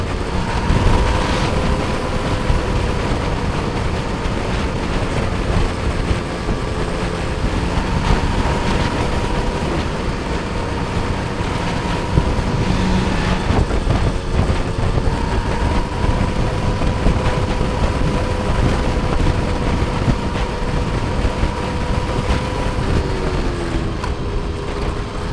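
A motorcycle rides around Bali, with a steady, close engine drone and rushing road and wind noise that hold throughout, pitch shifting slightly as it goes.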